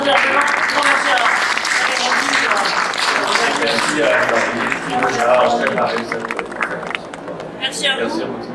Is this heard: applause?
yes